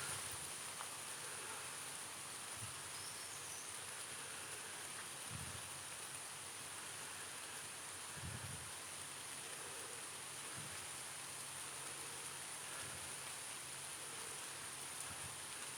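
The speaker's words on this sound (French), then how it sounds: "Est-ce que tu entends, Naëj, la pluie tomber sur les feuilles?" Rain patters steadily on tree foliage outdoors as storms approach, a soft continuous hiss with a few faint low thumps, no voices.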